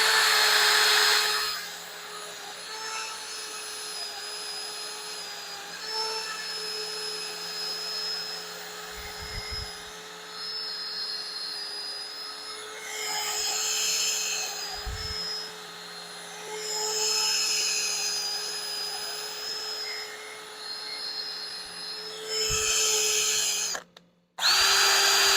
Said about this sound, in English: Flip the lathe back on and use our drill with the 2-inch sanding pad on it